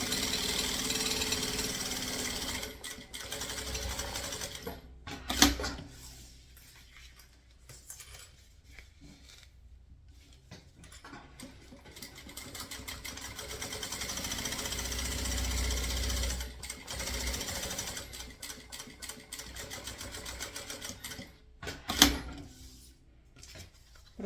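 A sewing machine runs in short bursts while stitching a closing seam on a milk-carton lining, with pauses between runs and a couple of sharp clunks.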